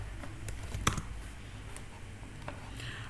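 Someone types on a computer keyboard, light scattered key clicks at low volume with one sharper tap standing out, irregular in rhythm against a quiet room background.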